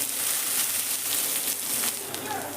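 Curry leaves hit hot oil along with chopped onion while cooking kundri, giving a steady crackling sizzle at moderate level that holds for the whole stretch with scattered pops and no clear talk.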